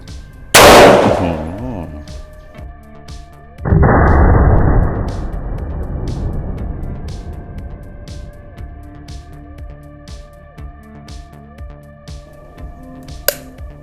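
An old Thai break-action shotgun, registered in 1975, fires two loud shots at a range of about 15 metres, one early and one a few seconds later, each trailing off into an echoing decay with quiet room noise after.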